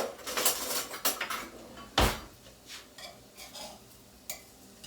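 Potatoes frying in olive oil are turned in a pan with a utensil, giving a run of close scraping clinks and taps with one sharp knock, under a faint sizzle.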